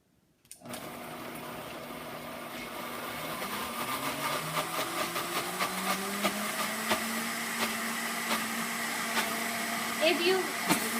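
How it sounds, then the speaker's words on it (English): A blender whirs through vegan Thanksgiving dinner ingredients, starting abruptly and running as a loud steady motor whine whose pitch shifts as the mix thickens, with a voice briefly heard under it. "put that all that in there, and let's blend that up."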